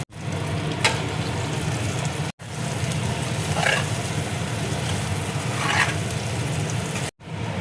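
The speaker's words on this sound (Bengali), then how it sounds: "এবার আমি ডিমটা দিয়ে দেবো।" Eggs are added to spiced masala frying in oil for an Afghani egg curry, giving a steady, close, even sizzle with brief stirring scrapes and two short cuts to silence.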